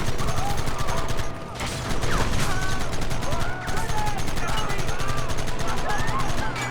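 Dense, continuous gunfire in Red Dead Redemption, with rapid overlapping shots, loud throughout, plus brief dips and scattered electronic effects layered over the barrage.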